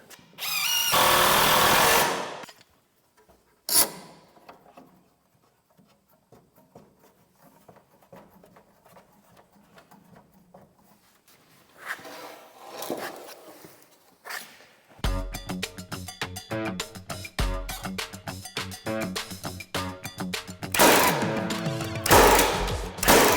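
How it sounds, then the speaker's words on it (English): Screw gun driving screws into interior stud wall framing, heard as loud bursts of whirring and rattling in a workshop, with a sustained stretch of dense mechanical clatter toward the end and quieter gaps between drives. "So I used the screw gun, it took me a lot longer."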